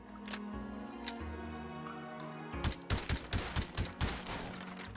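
A Honey Badger PDW fires in the VR game Hot Dogs, Horseshoes & Hand Grenades, a few scattered shots, then a rapid string of about seven sharp suppressed reports close up.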